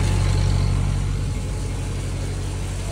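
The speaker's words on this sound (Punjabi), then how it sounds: "ਦੋਨੇ ਮੋਟਰਾਂ ਚਲਾਈਆਂ ਹੋਈਆਂ ਨੇ" Two water pump motors on a farm run off a generator, making a loud, steady engine hum with a deep, continuous low drone and no pauses, close at hand and without voices.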